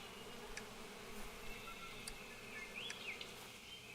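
Bees buzz in a video game, a steady low drone under soft ambient game sound, with faint chirps and a brief rising tone in the background.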